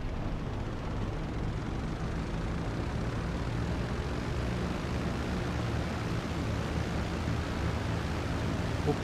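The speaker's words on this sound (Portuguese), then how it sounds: "O avião é difícil de manobrar" Constant droning roar of an airplane engine in flight in GTA 5 Online, dense and close, holding steady without pause or voices.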